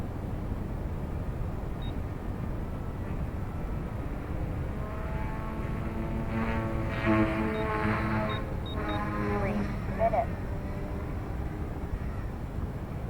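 Small Eachine E120s RC helicopter flying at full throttle, a steady buzzing whine of rotor and motor that swells and wavers in pitch as it works, heard continuously at moderate distance.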